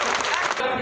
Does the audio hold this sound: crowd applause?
yes